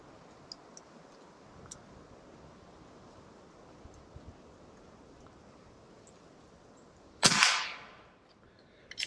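A single sharp report from a Umarex Origin .22 caliber air rifle cracks out loud and close, then decays, with small ticks and faint clicks scattered across the quiet background.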